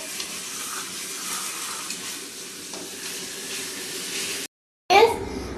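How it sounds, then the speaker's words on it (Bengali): Ginger paste frying with chopped onions in a pan gives a loud, continuous sizzle up close. It cuts out abruptly near the end, then returns with a burst of hiss and a brief voice. "এবার আমি আদা বাটা দিয়ে দেবো দিয়ে দিয়েছি কষে নেবো আদা বাটাটা"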